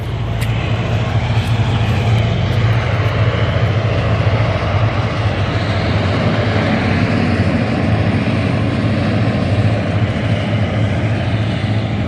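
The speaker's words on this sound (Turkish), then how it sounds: "Tren de geçiyor." A loud, continuous rumble and rattle of a train rolling past close by at a level crossing, steady throughout with a faint rhythmic clatter.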